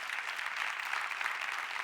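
An audience applauds the candidates at an e-health awards event in a hall, a dense steady clapping from a moderately sized crowd, even in level throughout and heard without any speech.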